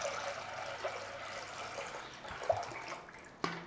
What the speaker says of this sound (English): So we're going to put some water in there.